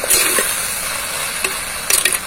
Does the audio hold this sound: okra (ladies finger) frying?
yes